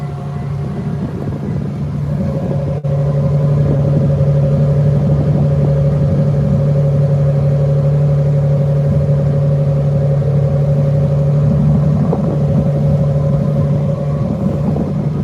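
A 2025 Toyota Tundra TRD Rally idles, then its engine and exhaust come up to a steady, loud droning hum that holds near the microphone for most of the stretch before easing slightly near the end.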